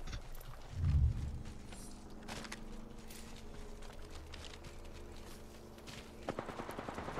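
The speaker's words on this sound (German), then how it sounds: "Ja, die schießen da schon." Automatic gunfire from the battle royale shooter Apex Legends: a heavy burst near the start, scattered shots through the middle, then a rapid rattling volley at the end, with no talk over it.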